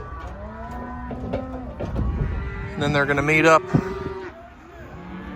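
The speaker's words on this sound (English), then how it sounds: "the cows are coming out over on this side" Cows in a farm field released through an open gate, several loud, drawn-out moos close by, overlapping with someone talking.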